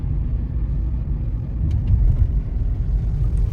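A car climbs uphill on a mountain road, its engine giving a loud, close, steady low rumble throughout with no talking.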